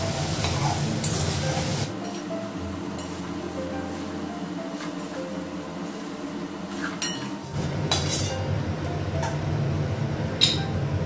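Soybean chunks frying in hot oil on a gas stove, a steady sizzle with occasional utensil clinks and stirring scrapes, the sound easing briefly mid-way before rising again.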